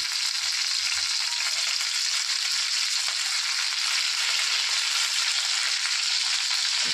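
Mustard seeds, chana dal, urad dal and curry leaves frying in hot oil make a dense, even crackling sizzle, close and steady throughout with no voices.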